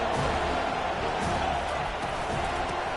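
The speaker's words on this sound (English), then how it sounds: "The roar of the crowd trying to fuel this defense to keep them pinned in their own end" College football stadium crowd in a game at FSU roaring steadily, a dense, loud wash of many voices that stays sustained and unbroken.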